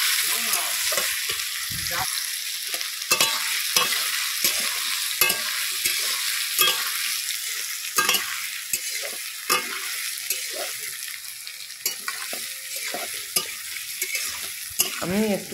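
Gandhal leaves fry in a generous amount of hot oil, a loud continuous crackling sizzle with frequent spatula scrapes and taps against the pan throughout.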